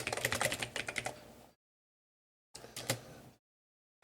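Quick, close bursts of computer keyboard keystrokes enter a text prompt, a fast run of typing, then a pause of silence and a shorter flurry of key presses.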